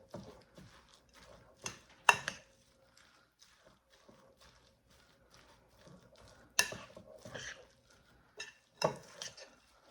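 A thick granola bar mixture with peanut butter is stirred in a bowl, giving sparse, close knocks and scrapes in uneven bursts with quiet gaps between them.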